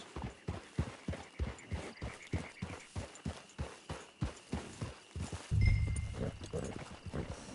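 Horse hooves clip-clop at a steady walking pace in a video game, Red Dead Redemption 2, evenly spaced thuds, with a brief louder rustle near the end.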